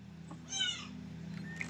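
A cat meows once in a room, a short clear mid-pitched cry, over a constant low electrical hum, with faint small noises afterward.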